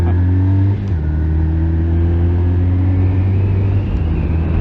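A Honda CB250 Nighthawk engine revving in neutral, a loud, close, steady rumbling drone that dips briefly and then holds an even pitch throughout.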